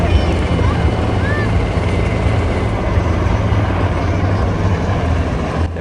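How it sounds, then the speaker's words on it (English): A dense, steady rumble of a large formation of UH-60 Black Hawk helicopter rotors and engines overhead at a military parade, loud and continuous, with a faint whine drifting above the roar. "have a huge formation of UH-60 Black Hawk helicopters"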